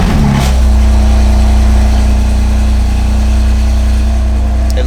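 A BMW F80 M3 with high-flow downpipes fires up with a brief loud crank and flare, then settles into a deep, steady idle drone close by, with no talking.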